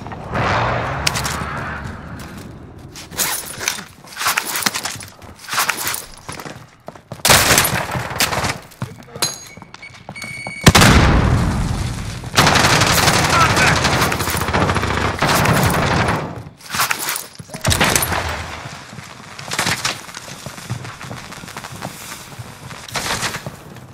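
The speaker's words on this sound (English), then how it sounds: "They're shooting from tents." Gunfire rattles through a Call of Duty: Modern Warfare match in loud, rapid automatic bursts and single shots, broken by short pauses and layered with distant battle noise.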